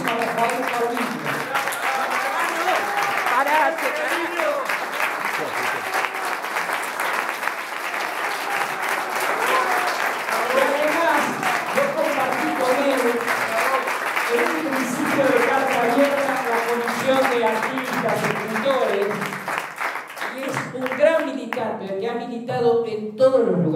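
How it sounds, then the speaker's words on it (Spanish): Sustained audience applause fills the room at a public tribute event, dense and steady throughout, with voices and cheers mixed in and a speaker's voice emerging near the end as the clapping thins. "Yo pido un aplauso grandísimo a Rafael Paulino."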